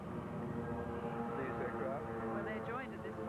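Slow reconnaissance aircraft approach over a harbour parade of sail, their low, steady drone blending into a dense wash of crowd and ambient noise with faint tonal sounds rising near the end.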